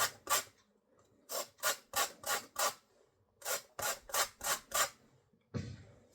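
Scratchy rasping strokes of zest being grated, in quick rhythmic bursts of two and then two runs of five, close up, with a softer final scrape.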